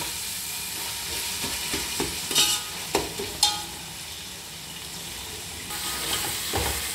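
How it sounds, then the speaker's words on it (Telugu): Ingredients for chicken pulav frying in a pan, a continuous sizzle broken by several scraping stirs and clanks of the spoon against the pan, close and moderately loud. "ఇది కొద్దిగా ఒక 2 సెకండ్స్ అట్లా ఫ్రై కావాలండి"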